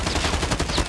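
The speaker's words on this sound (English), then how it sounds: "I got shot." Rapid, dense gunfire from Call of Duty Mobile, with overlapping shots crackling nonstop through a full second of loud, close combat.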